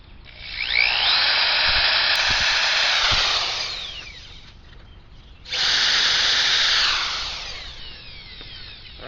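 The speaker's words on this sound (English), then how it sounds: "So I can go ahead and drill a couple smaller holes, because those ones don't go all the way through." A power drill bores small holes into the wood of a swing set, two long loud whirring bursts of a few seconds each separated by a short pause, with no talk.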